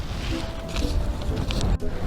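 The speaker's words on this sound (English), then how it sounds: "It's extremely windy" Strong wind buffets the microphone with a low, rumbling roar that surges and drops, steady and loud throughout.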